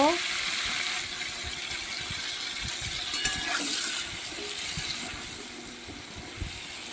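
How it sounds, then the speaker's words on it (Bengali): Papaya and potato pieces added to hot oil in a home kitchen, a soft steady sizzle and bubbling with occasional clinks of utensils, continuous and moderately quiet, with speech faintly present. "এইবার ওই তেলেই আমি সবজিগুলো দিয়ে দেব এটা ভালো করে আমি ভেজে নেব"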